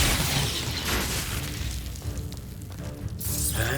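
An Expulso blasting spell exploding in the video game Hogwarts Legacy, a loud booming burst with a rumbling tail, followed by a sharp hiss near the end.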